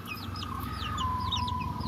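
Backyard chickens raised for breeding cluck steadily in close range, with repeated short calls layered over a continuous low farmyard hum and a faint high tone.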